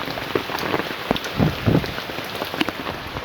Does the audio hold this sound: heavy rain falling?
yes